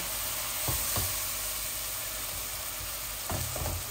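Spice masala for chicken biryani fries in oil as a little hot water goes in, giving a steady close sizzling hiss with a few short louder bursts of bubbling and stirring.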